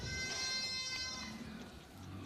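Goats bleat on a dairy farm where cows and goats are milked: a few close, wavering, nasal cries in the first second, followed by quieter farmyard background.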